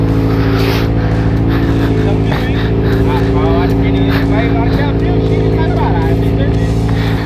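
A motorcycle engine drones loudly and revs hard, with voices talking over the steady roar.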